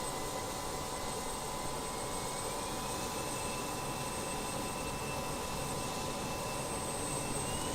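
Airliner jet engines spool up on throttle-up in Microsoft Flight Simulator, a steady, dense roar with a faint rising whine that holds loud and unbroken throughout.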